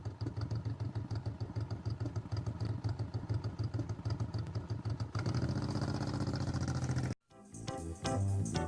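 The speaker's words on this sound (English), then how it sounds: "the rider will need to use the throttle and the clutch in a smooth manner to control the speed of the motorcycle" A motorcycle ridden slowly during a California riding skills test, held at low speed with throttle and clutch: a steady, faint mid-pitched engine drone with light clatter, shifting tone partway through and briefly cutting out near the end.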